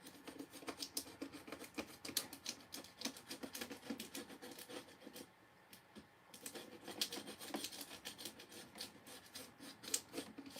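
Scissors trim craft material at a live crafting session, giving repeated close crisp snips and rustling cuts in an uneven rhythm, with a short quiet pause midway and no talk.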